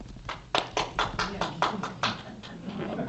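A few people clap in a slightly uneven burst at a Hot Springs city meeting on downtown parking, roughly a dozen close, distinct claps over a low room murmur.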